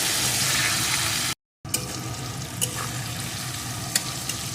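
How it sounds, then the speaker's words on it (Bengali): Green chillies fry in a pan for a cabbage and small shrimp dish, giving a loud, constant sizzle broken by a brief silent gap, with a few sharp pops and clinks of stirring afterward. "কাঁচা লঙ্কাগুলো এখন এটাকেও একটু ভেজে নেব"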